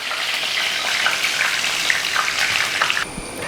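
Curry leaves fry in hot oil for pakkavada, a dense crackling sputter close by that runs steadily and then drops abruptly to a quieter sizzle near the end.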